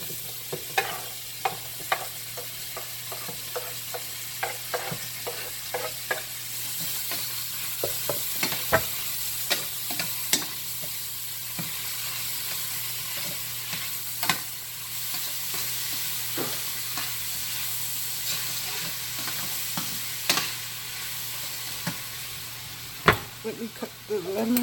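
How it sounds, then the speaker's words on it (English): Onions and garlic sauté in a hot pan for a buttery garlic tomato chicken and shrimp dish, giving a steady close sizzle broken by frequent sharp clicks and scrapes of a utensil stirring. "I'm going to saute the onions and garlic right now."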